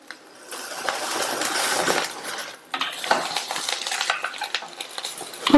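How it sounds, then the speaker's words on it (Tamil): Garlic cloves, small shallots and a gooseberry-sized lump of tamarind sizzle in hot oil in a pan, with a steady frying hiss, a brief pause, then more crackling and light clinks of a spoon stirring against metal. "ரெண்டையும் லைட்டா வதக்கிட்டு ஒரு நெல்லிக்காய் அளவு புளியை சேர்க்கிறேன்"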